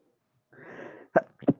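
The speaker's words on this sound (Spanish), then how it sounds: "un estornudillo nada más" A single breathy burst followed by two short sharp sneezes, close and fairly quiet, with no talking.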